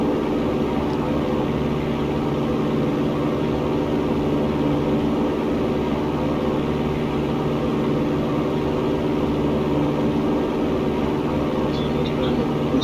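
Light aircraft taking off at full power, producing a steady, dense engine roar throughout, with faint radio chatter beneath it.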